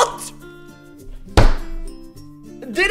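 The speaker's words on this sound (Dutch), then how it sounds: "Het is letterlijk een kanon die Robux afvuurt." A cartoonish Roblox game sound effect of a cash cannon firing Robux, with tonal chimes and a sharp thunking burst midway, followed by more clinking tones.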